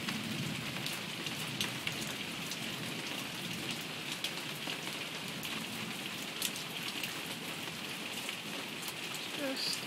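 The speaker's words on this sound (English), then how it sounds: "we're having a little bit of rain right now." Steady rain patters on hard surfaces, a dense, even hiss with occasional louder drips nearby.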